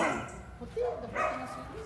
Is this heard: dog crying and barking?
yes